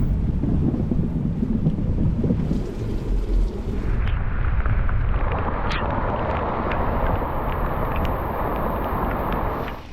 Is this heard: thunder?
yes